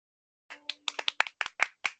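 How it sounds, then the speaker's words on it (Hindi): Nine sharp claps from a group in an uneven rhythm after a short silence, close and fairly quiet, with a faint hum under the first few. "एक दूसरे के लिए तालियां बजाओ सब, मुझे तालियों की आवाज आनी चाहिए"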